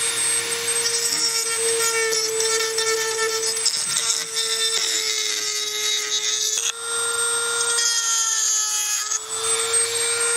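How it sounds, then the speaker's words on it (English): A rotary power tool with a file bit hollows out a turkey wingbone for a wingbone turkey call, giving a steady close whine with grinding rasp that runs continuously and shifts slightly in pitch. "So you can see where I'm hollowing that out."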